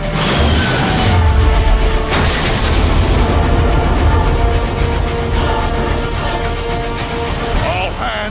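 Loud, dense battle sounds from the Transformers: Fall of Cybertron video game, with heavy booms, gunfire and explosions running continuously, under music and voices speaking over the action.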